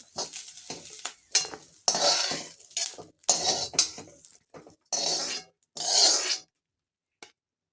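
Cumin, garlic and green chilies are tossed in a pan, giving loud bursts of sizzle and metal scraping in uneven strokes with short silent gaps between them, then a last faint tap.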